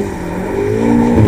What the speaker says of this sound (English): you can actually do like brake stand burnouts in this